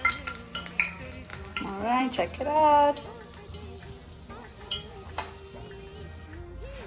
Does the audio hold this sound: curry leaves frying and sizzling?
yes